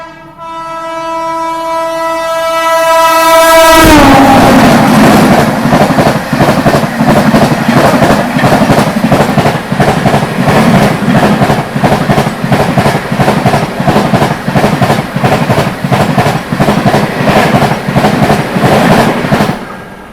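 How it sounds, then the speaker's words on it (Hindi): Rajdhani Express trains overtaking on a parallel track, opening with a loud long horn blast, then a rapid rhythmic clatter of wheels and wagons rushing past close by. "लेकिन बाकी सब राजधानियां ओवरटेक कर रही हैं अभी।"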